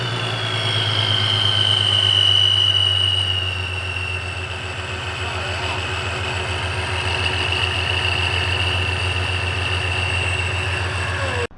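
A supercharged 3.7-litre V6 Mustang engine runs at a steady idle close by, a loud low rumble with a high whine above it, briefly rising before settling back.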